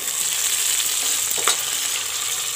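Peas and onions sizzle steadily in a hot pan while khichdi is cooked, a close, even frying hiss with a brief stir-like rustle midway.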